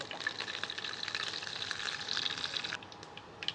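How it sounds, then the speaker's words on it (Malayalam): Mustard seeds crackle faintly in hot oil for a green gram stir-fry, a soft steady sizzle sprinkled with small scattered pops. "കടുക് പൊട്ടുന്നുണ്ട്."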